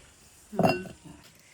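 A metal cooking pot set down on a stove to make Malvani prawn sukka, a single short clink and clatter followed by a faint second knock in a quiet kitchen.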